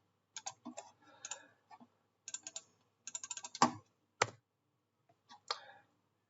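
Typing on a computer keyboard in SQL Developer: short bursts of quick, crisp key clicks separated by pauses, plus a couple of louder, heavier key strikes, close and otherwise quiet.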